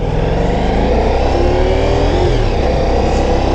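Ducati Diavel V4 motorcycle engine running loud and close, rising and falling in a steady rev, heard alone with no talking; the stall is not clearly audible.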